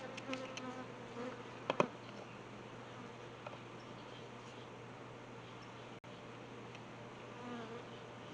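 Dense, continuous buzzing of many bees near a lit smoker, with a steady low hum and a couple of brief louder knocks.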